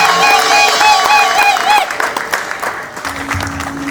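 A golden wedding crowd applauds and cheers for the parents in a loud burst that thins into scattered clapping, with music or singing over the start.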